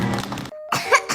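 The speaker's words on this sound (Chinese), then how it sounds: "哎呀，咋咳嗽了？" A young child coughs from an itchy, phlegmy throat: a couple of short, close, harsh coughs with a brief pause between them.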